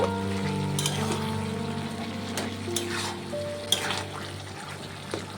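Bottle gourd curry with turmeric, coriander powder and salt sizzles and bubbles steadily in a frying pan while being stirred, with a few scrapes and clinks over a constant hum from the kitchen.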